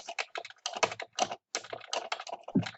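Keys on a computer keyboard are tapped in quick, irregular bursts of close, crisp clicks during typing practice, with brief pauses between runs and no speech.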